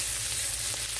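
Smoked sausage and onion frying in a skillet with olive oil and butter, a loud, dense, continuous sizzle close up with no talking.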